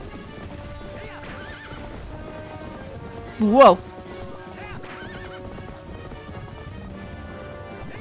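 Horse sounds from Zelda: Twilight Princess: a short, loud whinny bursts out midway, laid over a steady game soundscape of hoofbeats and ambience, with a player's voice speaking briefly.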